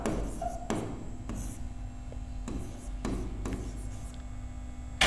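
Marker or chalk scraping across a classroom board in short bursts, each stroke a brief rasping rub separated by pauses, close and moderately loud with no talk over it.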